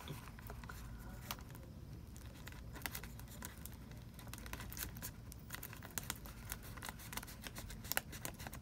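Scissors snip and crinkle through thin packaging on a Supreme bandage unboxing, a quiet run of close sharp cuts and plastic rustles with low talk at times.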